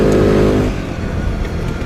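GOES Iron 450 Limited EFI quad, a 344 kg ATV, revs its engine loudly and close up with a steady harmonic drone, which then drops into a rougher, choppier running sound as it moves on.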